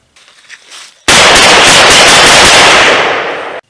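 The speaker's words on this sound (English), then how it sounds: "you can rapid fire with an M1A loaded just like you would any other" An M1A Loaded rifle is fired rapidly, a dense, very loud burst of quick shots blending into one roar for over two seconds after a short quiet lead-in, then tapering off.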